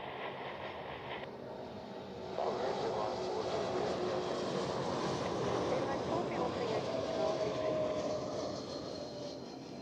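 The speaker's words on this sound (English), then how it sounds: "let's check out this Helvetic Embraer 195-E2 from Amsterdam" Helvetic Embraer 195-E2 jet at Zurich Airport, a broad distant roar that swells after a couple of seconds, holds steady, then eases slightly, with a voice talking over it.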